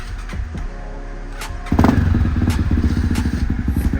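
A race motorcycle engine cranks with faint clatter, then fires up and runs with a loud, rapid, throbbing idle close by, punctuated by occasional knocks.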